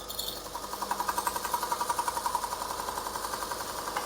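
A woodturning roughing gouge being sharpened, probably on a powered grinder or sharpening wheel, giving a steady, rapidly pulsing mechanical whir at moderate level with no talking.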